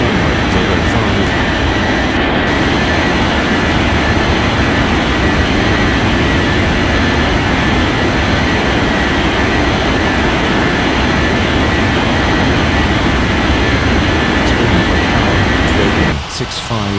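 A jet airliner's engines roar steadily on takeoff from runway 05 in an air traffic control game, a loud continuous rumble that holds for the whole stretch before briefly dropping off at the end.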